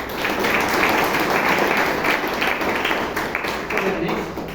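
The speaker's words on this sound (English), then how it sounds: "can you have another round of applause?" Audience applause at a Toastmasters meeting in Bangalore, a roomful of people clapping steadily and densely for several seconds, with voices faintly mixed in.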